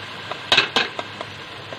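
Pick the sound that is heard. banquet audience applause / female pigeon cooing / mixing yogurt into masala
mixing yogurt into masala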